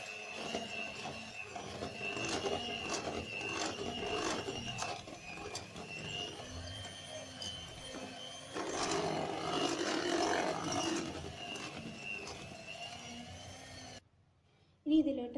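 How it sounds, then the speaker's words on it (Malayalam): An electric mixer whirs steadily at low speed as it beats cooled semolina into egg yolks for a coconut semolina cake, its continuous buzzing drone running for some seconds before stopping abruptly. "ഇനി ഇത് നമുക്കൊന്ന് ലോ സ്പീഡിലൊന്ന് ബീറ്റ് ചെയ്തെടുക്കാം."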